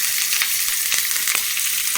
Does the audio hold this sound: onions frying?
yes